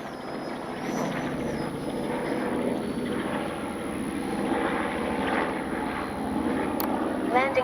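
E-flite 70mm Viper RC jet sweeping low in a touch and go, its steady ducted-fan whine holding throughout at fairly close range, with a brief rising pitch sweep near the end and someone talking over it.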